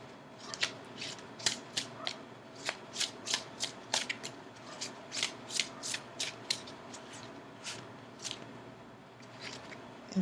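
A tarot deck is shuffled by hand at close range, a long run of crisp riffling card bursts repeating in a steady rhythm, fairly quiet and with no talk.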